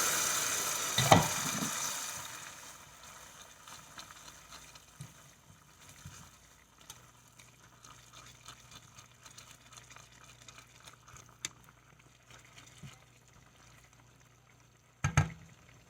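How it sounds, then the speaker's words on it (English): Hot chicken stock hisses and sizzles loudly in a pot for a moment, then settles into a faint, steady bubbling, with a sharp clank near the end. "Now that we've got our boiling chicken stock in the pot"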